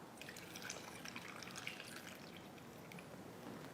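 Tap water pouring steadily into a container, a continuous splashing trickle with no talk over it.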